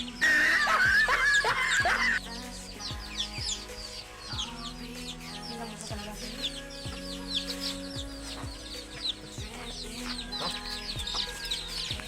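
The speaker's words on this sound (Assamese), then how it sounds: "এয়া চাওক, কুকুৰা পোৱালিটোৰ লগত খেলি আছে কেনেকৈ হাতত লৈ লৈ।" A baby chick peeping and cheeping in quick high chirps while being handled and played with by hand, with clucking fowl nearby, close and fairly soft.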